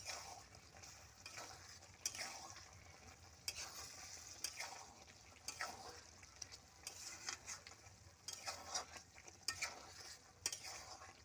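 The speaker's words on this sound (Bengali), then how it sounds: "একটু নেড়ে নামিয়ে নেব" Food cooking in ghee in a pan is stirred with soft, repeated scraping strokes over a low, continuous sizzle, all faint and close with no talking.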